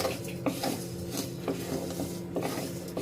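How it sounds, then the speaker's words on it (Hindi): A spoon scrapes and clinks steadily against a pan while vermicelli (sevai) is stirred and roasted until lightly golden, with soft repeated metallic taps over a faint hum. "तो देखिए सेवई को मैं चलाते रही हूँ"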